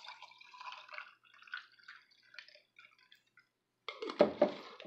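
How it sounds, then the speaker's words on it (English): Orange drink poured into a glass over syrup, a soft bubbly trickle with faint splashes and gurgles, briefly pausing before a louder final splash near the end. "fill the rest up with my orange drink"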